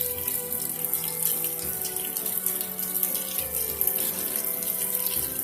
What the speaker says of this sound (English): you rinse the rice, rinse it good, and then you drain it